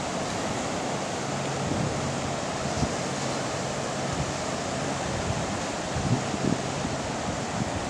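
The Sandusky River flows past in a steady, even wash of moving water, rushing noise with faint soft knocks here and there and no talk.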